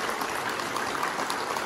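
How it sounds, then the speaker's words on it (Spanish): Steady, dense applause from an audience at a civic ceremony marking the 94th anniversary of Ejido El Quelital in Guadalcázar, a continuous wash of many hands clapping at moderate volume with no break. "Fuerte el aplauso."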